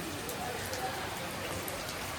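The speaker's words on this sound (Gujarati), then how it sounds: "બહાર બહુ વરસાદ ચાલુ છે" Heavy rain falls continuously in Mumbai, a dense even hiss of drops on surfaces with no pauses.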